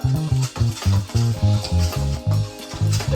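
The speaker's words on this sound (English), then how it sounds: "we're gonna take our spoon and just mix it all up" A spoon mixes a seasoned honey Dijon salmon mixture in a bowl, giving a steady series of loud, rhythmic scraping and sloshing strokes, roughly three per second, close up with no talk.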